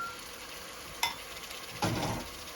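Boiled beef chunks hit hot oil in a pan for a beef and eggplant curry, a brief stir clatter followed by a sudden burst of close, steady sizzling.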